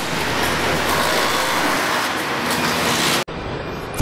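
Industrial robots welding car bodies on a Hyundai assembly line in Alabama, heard as a dense, continuous roar of factory machinery. The noise cuts off abruptly near the end, leaving a quieter hum.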